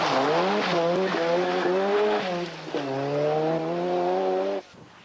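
Group N Ford Sierra rally car on a stage, its engine note falling through several quick downshifts as it brakes hard and locks up, loud and close before cutting off sharply.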